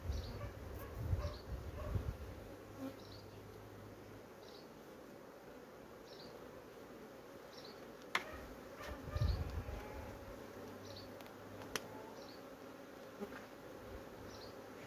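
Honey bees hum steadily in an opened hive being fed syrup during a varroa treatment, a continuous close buzzing with occasional louder passes and faint clicks, no voices.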